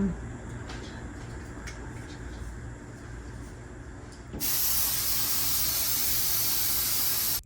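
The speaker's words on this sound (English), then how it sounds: "This atmosphere spray can is like a cheat code to getting that film look." An atmosphere haze spray can hisses in a steady, loud burst for about three seconds, a bright broadband spray that begins abruptly after a stretch of quiet room noise and faint movement.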